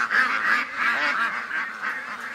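Ducks trapped in a barn give a continuous run of nasal honking quacks, several birds calling over one another at close range.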